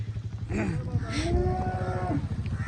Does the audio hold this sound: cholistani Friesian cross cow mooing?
yes